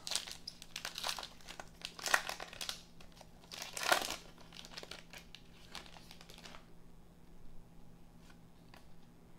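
Foil wrappers of 2020-21 Panini Contenders basketball retail card packs crinkle and tear up close in several bursts over about six seconds, then fade to near quiet.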